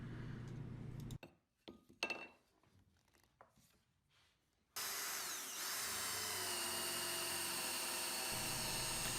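Power drill driving screws into a wooden cleat on a sleigh bed rail in a woodworking shop, with short stop-start bursts followed by a long steady whine that runs loud and close to the end.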